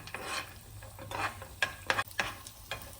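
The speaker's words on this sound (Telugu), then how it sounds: "నెయ్యి కరిగిపోయిన తర్వాత ఇలా కట్ చేసుకున్న బాదం, పిస్తా ఇలా కట్ చేసుకొని" Almonds, pistachios and cashews frying in melted ghee in a pan while being stirred, giving a soft steady sizzle with several scraping stirs and clinks, close and fairly quiet, no talking.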